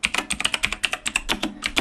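Someone types code on a computer keyboard, a rapid, uneven run of crisp, close key clicks with brief pauses and no talking.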